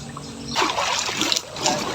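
Water splashes and trickles as a sack is washed by hand, with a sudden burst of splashing after a brief quiet start, continuing close and fairly loud in uneven bursts.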